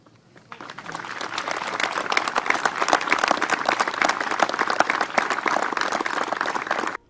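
Members of the Liberal caucus applaud in the House of Parliament with sustained, dense clapping. It builds within the first second and holds steady and loud until it cuts off near the end.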